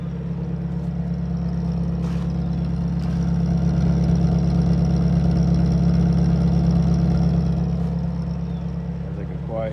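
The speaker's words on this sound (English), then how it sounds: "That's like a quiet tractor engine." The engine of a 1952 Buick idles steadily after its first start in 26 years, a low, even, close rumble with a smooth continuous throb and a few faint clicks, with no talk over it.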